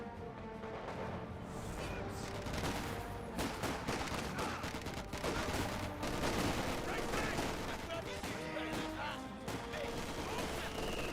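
Dense bursts of rifle and machine-gun fire and booming explosions fill a Company of Heroes 2 battle, rattling almost without pause throughout.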